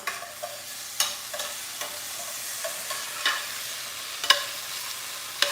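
Onions frying in olive oil with a little salt sizzle quietly and steadily while a utensil stirs them, with occasional louder scrapes and clinks against the pan, close and clear with no voices.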